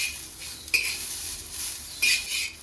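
Onions sizzle in hot oil in a pan on an Uttarakarnataka kitchen stove as ennegai badanekai is prepared. A steady close fry hiss is broken by two sharp scraping stirs of a metal utensil against the pan.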